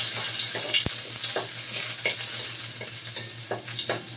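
Garlic sautéing in a pan for ginataang monggo, a bright steady sizzle with rhythmic stirring scrapes, one sharp knock near the start and a low constant hum beneath, no talking.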